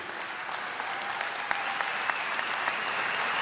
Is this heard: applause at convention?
yes